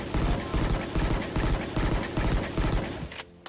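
Valorant burst-fire weapon shooting in rapid repeated bursts, loud and close, a steady pattern of sharp shots that stops near the end.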